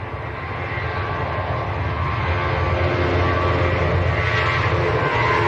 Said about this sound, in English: Ryanair in the background.